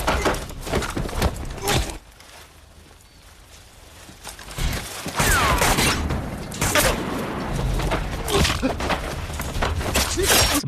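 Gunfire in a film battle scene, bursts of shots and crashing impacts mixed with other loud action noise, dipping briefly to a quieter stretch before the heavy, dense barrage resumes.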